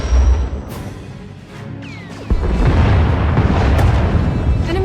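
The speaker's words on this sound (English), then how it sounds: "Enemy is firing. Turbo lasers, missiles, and what looks like transport pods." A Thranta-class enemy warship fires turbolasers and missiles in a Star Wars space game, with deep booming blasts and a sharp impact followed by a sustained roaring rumble of explosions, loud and near.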